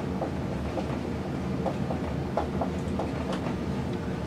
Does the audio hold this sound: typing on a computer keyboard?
no